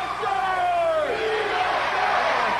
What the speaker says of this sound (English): You can hear Duggan chanting USA in the crowd